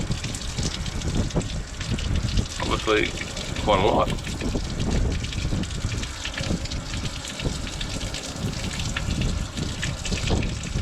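Water gushes and splashes out of a drilled hole in a rusty model trawler, a continuous rushing flow with a brief louder burst partway through, while someone talks over it.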